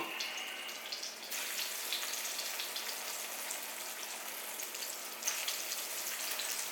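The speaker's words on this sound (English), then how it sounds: "Can you hear that sizzle?" Flour-dredged tomato slices for a BLT sizzle and crackle in a hot cast iron pan, a loud, steady hiss that continues throughout, with a brief louder burst near the end.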